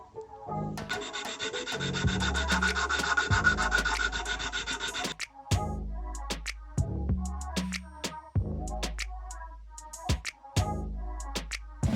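Carved wood for a costume piece being sanded by hand, a long continuous rasping rub followed by a series of shorter back-and-forth strokes, close and fairly loud with no talking.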